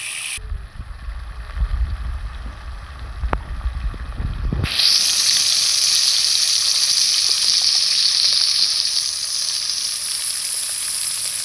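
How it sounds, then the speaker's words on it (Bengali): Medium potato pieces frying in oil for a cauliflower-potato curry; after a few seconds of low rumbling handling, a loud steady sizzle bursts in and holds close and continuous to the end. "ভাজার তেলের মধ্যেই আমি আলুগুলো ভেজে নেব।"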